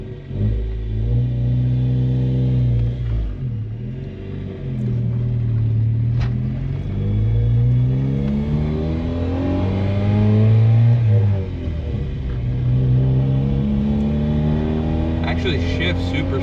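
A 1999 Honda Civic engine, just swapped to a 5-speed manual, starts and revs repeatedly, the loud close pitch climbing and falling through several rises over a steady idle rumble.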